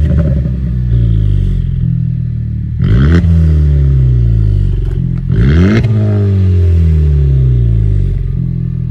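Honda Civic Type R with stock mechanicals and exhaust revving loudly at close range, two sharp blips rising and falling over a steady idle, no talk.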